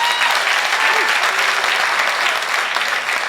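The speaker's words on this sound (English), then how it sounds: "Clap again." A comedy show audience claps steadily for a few seconds, dense and close, a continuous wash of hands with a faint murmur of voices underneath.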